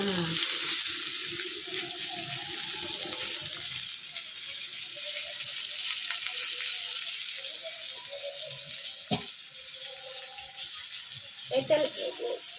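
Tap water runs steadily into an oily pan in a kitchen sink, washing it amid clatter, with a few sharp clanks near the end and a person speaking over it.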